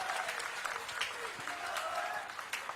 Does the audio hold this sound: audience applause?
yes